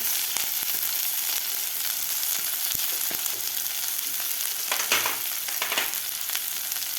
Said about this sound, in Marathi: एक मिनिटभर मी कांदा परतून घेतलेला आहे आता यामध्ये घालायचे आपल्याला कडीपत्त्याचे पानं